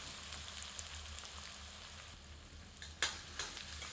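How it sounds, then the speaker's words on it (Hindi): Onions frying in hot oil with spices over medium heat for a spicy catfish curry, a soft steady sizzle with an occasional stir and a brief sharp clink near the end. "आंच को मध्यम कर लेते हैं और प्याज को तब तक भूनते हैं जब तक कि प्याज सुनहरे रंग में परिवर्तित नहीं हो जाती"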